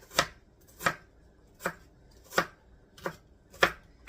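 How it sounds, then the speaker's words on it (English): An onion is finely diced with a knife on a cutting board, six crisp chops at a slow, even pace, close and clear with no talking. "when you cut your onions up, unless you chunk them really big, they're kind of small anyway"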